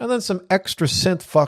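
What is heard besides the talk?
No distinct noise like a dog, phone or traffic.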